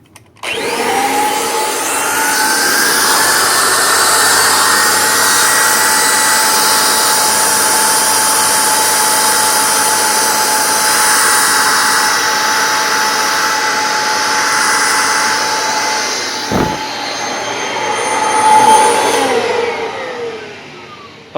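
A G5 turbine sprayer spins up and runs with a loud, steady high-pitched whine and airy roar, dipping with a brief clunk near the end before surging again; no one speaks.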